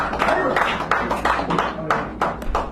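Applause from a small cafe poetry-hour audience for a poet: scattered, uneven hand claps from a modest crowd, with bursts rising and falling over a few seconds.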